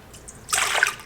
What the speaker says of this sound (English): We're going to start with 1 cup of very warm water.